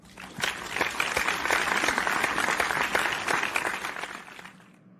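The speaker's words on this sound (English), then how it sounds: "Please applause to unknown person 1" Classmates clap in a classroom, a short burst of brisk applause that swells quickly, holds for a few seconds, then tapers off to quiet.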